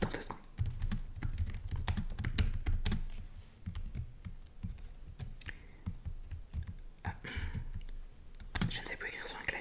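Rapid clicks of typing on a computer keyboard in uneven bursts, up close, with soft murmured speech at times.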